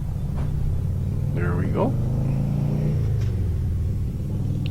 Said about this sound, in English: Sounds like we got a motorcycle coming up behind us.